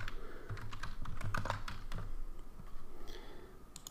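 Someone types a file title on a computer keyboard: a quick run of light key clicks, fairly close and steady, with no talking.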